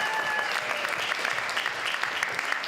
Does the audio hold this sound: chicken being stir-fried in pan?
no